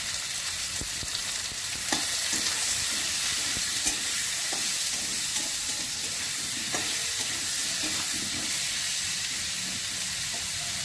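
Potatoes and onions, seasoned with turmeric and salt, fry in a pan for a potato and cauliflower curry. A steady sizzling hiss carries through, with occasional scraping clicks of stirring, close and alone without talk.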